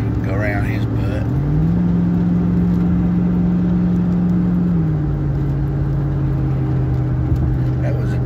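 A car drives along a snowy road with a steady, close engine drone that rises in pitch for a few seconds, holds, then settles back to a lower hum.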